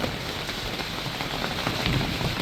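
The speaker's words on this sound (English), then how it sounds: "The rain is quite high." Rain falls steadily on surfaces near bell pepper seedlings, a close, dense patter of drops with no pauses. No one speaks over the continuous downpour.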